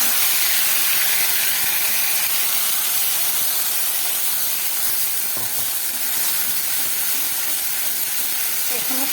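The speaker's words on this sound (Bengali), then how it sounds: "ঘুগনি করার জন্য আমি কড়াইতে তেল দিয়ে দিলাম আর তারপরে পেস্ট করা মশলাটা দিয়ে দিচ্ছি।" Spice paste of ginger, garlic, onion and chilli hitting hot oil in a wok, a loud dense hissing sizzle that holds steady throughout, close by with faint clinks.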